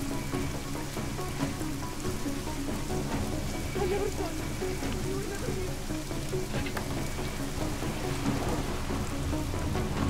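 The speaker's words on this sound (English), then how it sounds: "I love the rain effects," Steady rain effects from the PC game Deus Ex: Mankind Divided, a dense continuous hiss of rainfall with faint low rumbles, even and loud throughout with no talk.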